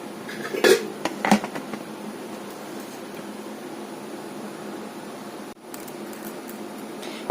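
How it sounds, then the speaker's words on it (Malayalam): A tin holding dried Malabar tamarind (kudampuli) is shut with two quick, close metallic clanks early on, followed by a steady quiet room hum with no talking. "പുളി നമ്മളൊരു ടിന്നിലാക്കിയിട്ടുണ്ട് ഇനി നമുക്കിത് അടച്ച് സൂക്ഷിച്ച് വെക്കാം"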